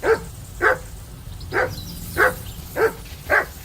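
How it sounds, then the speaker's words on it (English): A dog barks six times in a steady, evenly spaced rhythm, each bark loud and close against a quiet background. "Call off that damn dog before he wolfs down the last of our mates."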